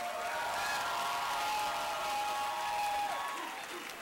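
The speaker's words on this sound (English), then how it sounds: "Another round of applause." Sustained applause from a crowd at a campus rally at CSUDH to save academic programs, a dense, even clatter of clapping with a few cheers, fading slightly at the end.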